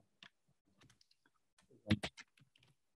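Someone types a search into Google Maps on a computer keyboard: sparse, quiet key clicks close by, with a brief quicker cluster of taps in the middle.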